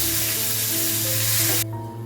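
Dried red chillies and curry leaves hit hot oil already crackling with mustard seeds, giving a loud, dense sizzle that cuts off sharply near the end.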